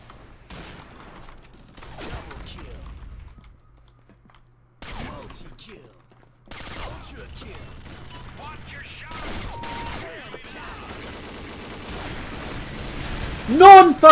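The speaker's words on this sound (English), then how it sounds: "That guy was shooting for like 4 seconds." Bursts of gunfire from the shooter game Combat Arms Reloaded, with scattered single shots and rapid automatic strings coming in clusters amid quieter gaps, and a loud burst at the end.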